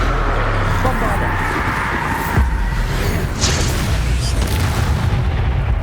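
A Bombarda explosion spell in Hogwarts Legacy erupts within a loud, continuous roar of combat noise, with a booming impact and a sharp crackle near the middle as other spell effects keep rumbling.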